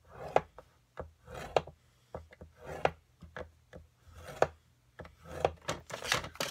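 Paper being cut and scored by hand for an envelope: close, irregular scraping strokes and sharp taps in uneven bursts, with no talking.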